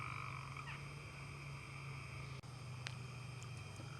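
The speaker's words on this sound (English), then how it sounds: "And tree frogs do that when there's more rain coming." Tree frogs croaking near Kentucky Lake make a steady, distant chorus of faint trilling calls, with a few brief chirps rising above it over a constant outdoor background hum.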